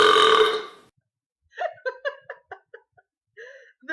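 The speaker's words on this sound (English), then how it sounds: "After eating a meal, you have to belch really loud." A loud, long belch rumbles up close, followed after a pause by a string of short giggles and laughing bursts.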